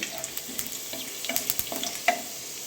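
Garlic frying in a pan for a fenugreek-leaf dish, a soft low sizzle broken by a few light stirring clicks and taps, fairly quiet and close.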